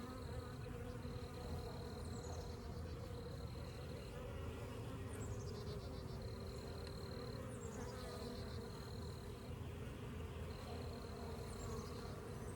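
Honeybees buzzing around a swarm hive while brood is placed, a continuous close droning hum with recurring higher whining tones, steady and fairly quiet.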